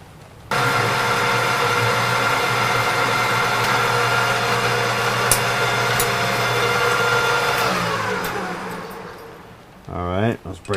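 A lathe runs steadily while drilling a small part for a steam wagon, a loud continuous machine hum with a rising whine, easing off near the end before a brief burst of other noise.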